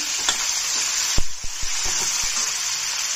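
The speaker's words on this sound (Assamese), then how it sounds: "চব্জিখিনি অলপ ভাজি লৈ আছো," Vegetables fry in a pan with panch phoron spices, making a constant close sizzle that is punctuated by several distinct knocks and scrapes of stirring.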